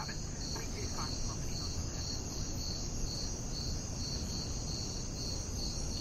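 Crickets chirping at midnight on the western shore of the Costa Rican jungle: a dense, continuous high pulsing trill over a steady wash of night insects, unbroken and fairly faint throughout.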